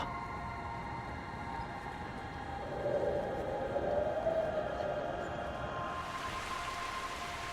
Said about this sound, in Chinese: 现在下雨